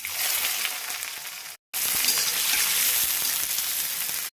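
Mustard seeds and curry leaves crackle and sizzle loudly in hot oil in a kadai while making katla fish curry, a steady close frying hiss broken by one brief silent gap.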